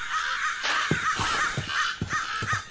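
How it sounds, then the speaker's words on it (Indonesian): A crow in the RLCraft Minecraft modpack caws in a quick run of about six harsh, rasping calls, fairly close and loud over a steady background hiss, with no talking. "Suara apaan lagi tuh burung gagak."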